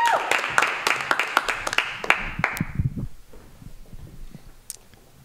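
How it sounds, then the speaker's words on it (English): An audience applauds a stand-up comedian at a geek-themed comedy show, dense clapping for about three seconds, then tapering off into scattered claps and quieter room noise. "Big round of applause for Daniel Dagris"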